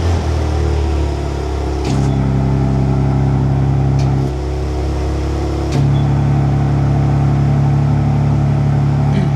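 BMW G82 M4 CS fitted with a Horizon Motorsport valve controller, its exhaust idling steadily and loudly, with the tone shifting and growing fuller partway through as the valves open, alone with no talk.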